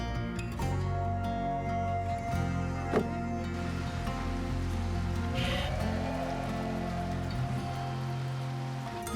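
Rain showers pour down steadily on an outdoor woodworking build site, a dense continuous patter of drops hitting surfaces with no break across the whole stretch.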